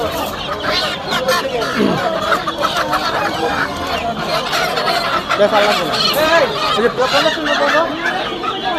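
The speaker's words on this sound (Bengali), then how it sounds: "এখানে অসংখ্য দেশি মুরগি রয়েছে" A dense crowd of native (deshi) chickens clucks and squawks continuously close by at a poultry market, with people talking underneath the birds.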